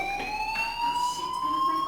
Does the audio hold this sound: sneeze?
no